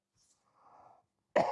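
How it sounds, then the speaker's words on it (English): A single sharp, close cough bursts out at the end after near silence and a faint muffled rustle. "I have a small cough."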